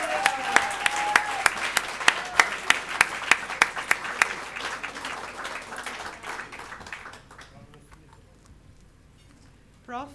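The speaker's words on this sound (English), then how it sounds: "please a round of applause" Audience applause at an awards dinner, a burst of many hands clapping that swells, then thins out and fades to near quiet after about seven seconds, with a brief sound at the very end.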